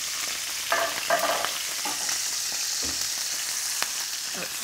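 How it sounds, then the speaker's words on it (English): Continuous crackling sizzle of chicken frying in hot oil, close up, with occasional soft scraping and clinks of a utensil stirring. "Got a nice sizzle going."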